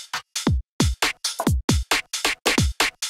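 UK garage drum beat of punchy kicks, snares and hi-hats in a choppy, syncopated two-step groove, loud and close, each hit cut short with brief gaps between, no voices.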